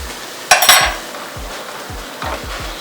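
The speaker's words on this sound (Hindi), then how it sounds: "5-6 मिनट इसको मसाले को अच्छे से भून लेना, ऑयल ऊपर आ जाएगा बस।" Spices and paneer masala frying in oil in a pan, with a spoon clanking and scraping against the metal in a few sharp strokes over a steady low sizzle.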